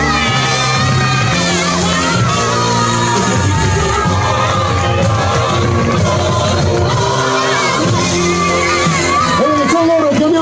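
Crowd cheering and shouting at an outdoor festival prize-giving for parade floats, loud and continuous with music and voices mixed in, children's shouts rising above the din throughout.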